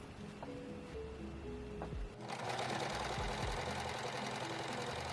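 A domestic sewing machine stitches the lining and facing onto a dressing gown bodice, first in short bursts with pauses, then running steadily in a loud continuous whir.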